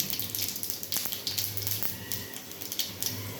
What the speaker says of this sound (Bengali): কড়ার তেল আমার গরম হয়ে গেছে তো আমি এটার মধ্যে দিয়ে দেবো সামান্য একটু পাঁচ ফোড়ন